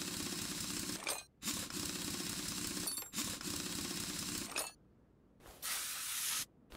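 Penetrating spray hisses onto a bolt in Car Mechanic Simulator 2021 in several sustained, bright bursts separated by short gaps, close and loud with no talking.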